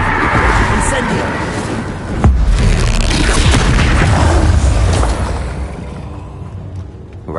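In Hogwarts Legacy, an Incendio fire spell erupts with a loud whooshing boom and sustained roaring rumble, a sharp impact partway through, fading toward the end.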